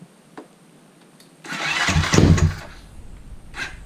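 A Honda CT70 motorcycle is started from cold: after a few faint clicks comes a short cranking burst that catches into a close engine sputter, then it settles to a quieter idle.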